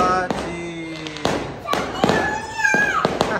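Fireworks going off suddenly at night close to a house, a series of sharp loud bangs and pops with crackling bursts and whistling trails, irregularly spaced, with voices reacting in between.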